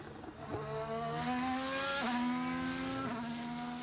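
Pierre Gasly's heavy Alpine Formula 1 car on hard tyres during pre-season testing, a loud, steady high-pitched engine note sweeping past with quick gear shifts.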